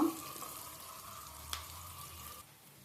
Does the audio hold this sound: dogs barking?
no